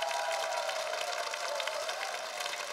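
An audience on a regional Korean TV music show gives a big round of applause, a sustained, even roar of clapping heard from the studio floor.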